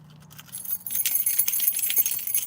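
A bunch of keys jangles and rattles in quick, busy clinks for about two seconds, close and fairly loud, after a brief low hum at the start.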